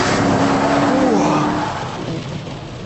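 A 500 bhp Porsche Cayenne Turbo engine roars loudly and close, holding a strong steady drone before easing off toward the end.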